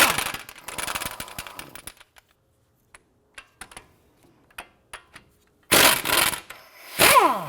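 A 17mm socket on a ratchet works loose the front brake caliper bracket bolts on a 2004-2008 Acura TL. A rapid run of sharp metallic clicks is followed by sparse isolated ticks, then two louder bursts of clattering.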